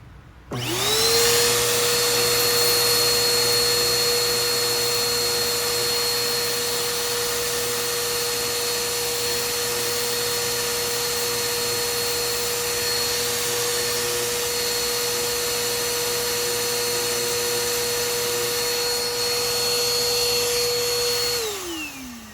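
Bissell Powerforce Helix upright vacuum motor whirring steadily and loudly for about twenty seconds, its pitch holding level with a bright high whine on top, while its shaft is sanded, then spinning down at the end.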